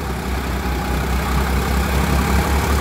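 Sonalika Rx 50 Di tractor engine labouring under load while driving a thresher, a steady close low rumble with constant mechanical roar and no talk.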